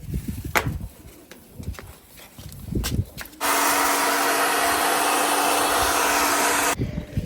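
A hair dryer blasts air over a pigeon dyed black, a steady loud whoosh that kicks in abruptly after a few seconds of light handling noises and cuts off near the end.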